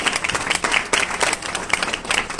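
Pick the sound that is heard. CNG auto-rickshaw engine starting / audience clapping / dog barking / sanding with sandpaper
audience clapping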